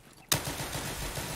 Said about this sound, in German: Knallt alles raus.